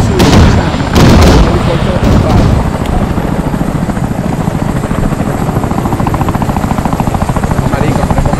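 A combat helicopter in the Arma 3 video game roars loudly during a nighttime battle, its rotor thumping steadily while gunfire and artillery bursts crack at the start and players talk over it.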